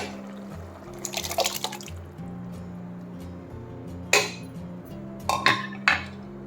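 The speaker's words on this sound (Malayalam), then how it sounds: "വേവിച്ച് വെച്ച പരിപ്പ് ഒഴിക്കാം." Cooked dal being poured into a pot of sambar with vegetables, with wet splashing and dripping bursts and clinks of a utensil against the pot, above a steady low hum.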